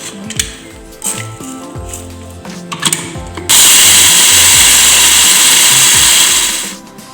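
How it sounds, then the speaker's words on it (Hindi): Four tablespoons of rice are ground in a mixer grinder, starting after some clinks of handling, then a loud, steady whirring roar runs for about three seconds before winding down. "ये मैंने 4 टेबलस्पून राइस लिए हैं, तो इसको हम ग्राइंड करेंगे अभी।"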